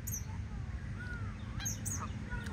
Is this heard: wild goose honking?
yes